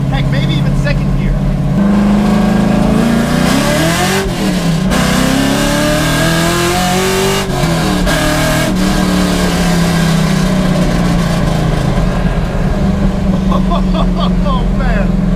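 LS3 V8-swapped Nissan S13 making about 430 wheel horsepower, pulled hard through the gears, with a loud, close engine roar that climbs in pitch, dips at shifts and climbs again.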